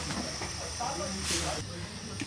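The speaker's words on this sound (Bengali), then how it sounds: "এই যে এবার চেপে চেপে ভাজবেন।" A thick roti pressed down and fried on a gas stove hisses steadily and close, swelling into a brief louder sizzle midway, with faint voices in the background.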